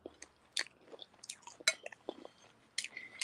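Crunchy chewing of a fried bologna sandwich topped with potato chips, close to the mic, with irregular sharp crunches and softer mouth sounds between bites and no talking.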